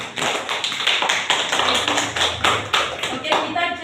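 A classroom full of students applauds a classmate during a statistics microteaching lesson, a dense, steady patter of many hands clapping close by for several seconds.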